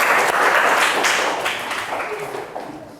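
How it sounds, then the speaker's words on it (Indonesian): Students in a classroom applaud together, a loud burst of clapping that starts at full strength and gradually thins and fades over about three seconds. "Oke, tepuk tangan buat kita semua."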